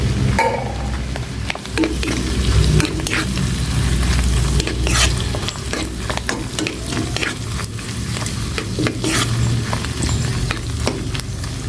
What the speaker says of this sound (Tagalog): Gisa ko lang tong mushroom